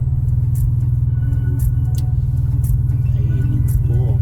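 Steady low engine rumble of a hatchback car creeping through heavy traffic on EDSA, a continuous close drone with faint higher noises from the road and other traffic around it.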